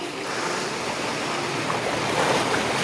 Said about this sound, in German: Ja, ein richtiger Mini-Tsunami.